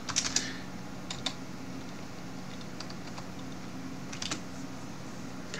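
Light clicks of typing on a computer keyboard come in short scattered bursts over a quiet steady hum, close and soft, with pauses between the bursts.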